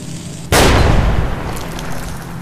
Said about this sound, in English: He threw a grenade at the guy and only blew off his helmet.